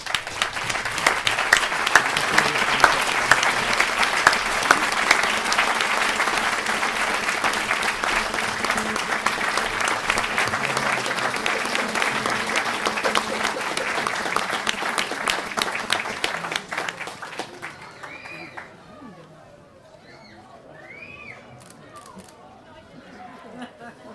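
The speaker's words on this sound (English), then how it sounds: "let us really congratulate Joan Langrick now with a huge round of applause" An audience at a UK family gathering gives Joan Langrick a big round of applause, dense sustained clapping with some cheering for about seventeen seconds before fading to scattered claps and quiet room murmur.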